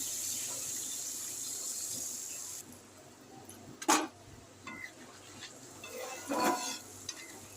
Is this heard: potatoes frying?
yes